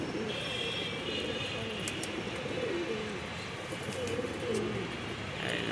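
Homing pigeons coo in soft, repeated rolling calls close by, layered over a noisy background hum for several seconds, with no clear talk.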